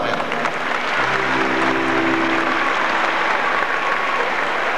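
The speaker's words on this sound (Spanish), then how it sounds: "Fuerte el aplauso para Juan también." Loud, dense applause from a concert audience for a band's drummer, continuous clapping throughout with a brief tonal voice or instrument line near the start.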